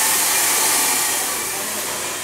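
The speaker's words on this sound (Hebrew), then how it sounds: "ולקרין עושים עכשיו פן." A hair dryer blow-dries hair in a salon, a loud, steady airy whoosh running throughout that eases off slightly toward the end.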